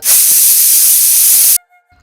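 A pressure cooker vents its whistle in a village kitchen, one loud, sustained steam hiss lasting about a second and a half that cuts off abruptly into near silence.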